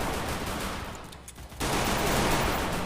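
Gunfire rattles in a Free Fire match, a dense burst that fades briefly before the shooting resumes loud and continuous.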